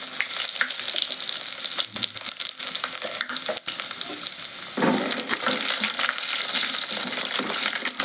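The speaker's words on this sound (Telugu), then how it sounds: "ఒక 2 ఎండుమిర్చి వేస్తాను." Dried red chillies and tempering spices fry in hot oil for okra tamarind stew, a steady close sizzle with crackling pops and stirring scrapes, rising briefly midway.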